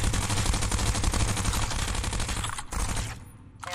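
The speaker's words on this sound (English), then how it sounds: "I'm thinking that's alive, so I'm gonna shoot it" Sustained rapid gunfire from a gun in the Gunheart video game, a continuous loud stream of shots that cuts out briefly, resumes, then thins at the end.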